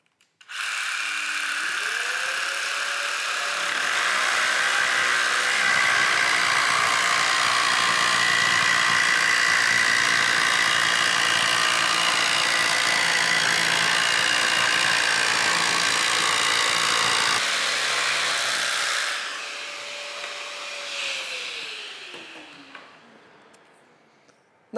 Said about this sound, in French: je peux m'aligner sur mon trait de coupe avec une vitesse réduite et puis couper